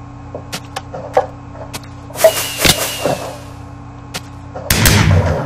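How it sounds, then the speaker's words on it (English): Fireworks in the Minecraft video game launch and burst, a series of sharp cracks and whooshing pops scattered across the clip, ending in a louder, denser crackling blast. "Wow! Fireworks!"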